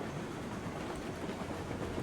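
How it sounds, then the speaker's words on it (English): A heavy freight train in the RailRoads Online game rumbles steadily at a constant level, a dense low rolling drone with faint rail noise and no voices. "It's a freight train."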